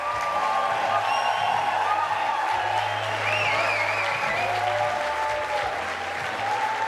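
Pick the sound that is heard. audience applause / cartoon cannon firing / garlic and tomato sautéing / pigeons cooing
audience applause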